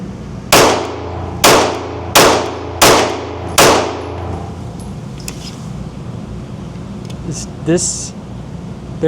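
Five sharp, loud Glock 45 Gen 6 pistol shots fired at an even pace, each with a short ringing decay, followed by quieter background noise and faint clinks.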